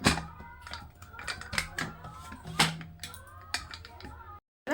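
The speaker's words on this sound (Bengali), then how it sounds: "এবার আমি প্রেসার কুকারের ঢাকনাটা লাগিয়ে ডালটাকে আমি সেদ্ধ করে নেবো" Lid being fitted and locked onto a pressure cooker of dal in a home kitchen: a close series of metallic clicks, scrapes and clunks with uneven rhythm, then a brief pause and one final clack.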